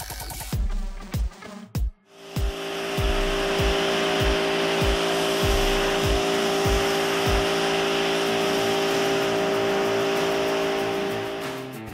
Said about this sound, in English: This is a Volkswagen Gol, and the owner told me it's a turbo car full of modifications